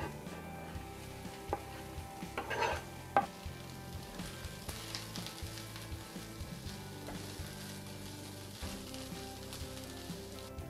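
Tempeh browning in a frying pan for a sesame honey glaze, with a steady soft sizzle and occasional scraping stirs and clinks of a utensil, fairly quiet and close, no voices.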